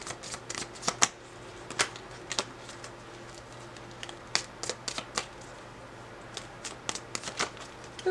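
Tarot cards shuffled and drawn by hand, a quick irregular run of soft flicks and snaps, close and fairly quiet, with a low steady hum underneath and no talking.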